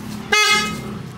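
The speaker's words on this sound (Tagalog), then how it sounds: "Upgraded na yung horn niya" An upgraded horn on a Honda ADV 160 scooter gives one short, loud, buzzy blast close by, cutting off quickly.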